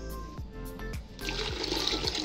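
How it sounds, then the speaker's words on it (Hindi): Water pours and splashes into ground onion and tomato in a pot for pakora curry, a steady close gush with a few clinks, alone without voices. "ये हमने इसमें पानी ऐड कर दिया"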